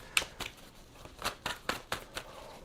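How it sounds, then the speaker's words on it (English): A tarot card deck being shuffled, a quick series of about seven to eight crisp riffling snaps spaced irregularly, close and moderately quiet with no talking. "2 shuffles."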